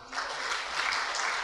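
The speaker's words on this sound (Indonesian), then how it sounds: "Tepuk tangan." Congregation applause during a Pentecostal church sermon, a short, even patter of many hands clapping at moderate distance, steady across the whole moment.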